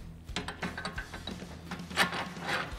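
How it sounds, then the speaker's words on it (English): A rail clamp sliding onto a Leitner Designs Active Cargo System rail, heard as close, short metallic scrapes and ratcheting clicks in an uneven rhythm. "slide it on, three per side, evenly spaced across the rail"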